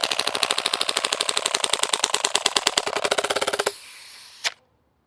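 A Krytac KRISS Vector gas blowback airsoft SMG firing a full magazine on full auto, a rapid, even string of sharp close cracks that stops abruptly, followed by a gas hiss and one last click.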